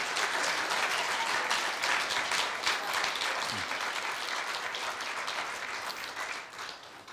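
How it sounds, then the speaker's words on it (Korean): Warm, steady applause fills a hall after a retirement speech at a Korean university staff retirement ceremony, a large audience clapping together before slowly tapering off at the end. "오늘 퇴임사 중 박수 소리가 가장 컸던 것 같습니다"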